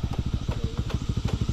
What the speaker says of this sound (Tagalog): Ito yung motor mga kalaki oh.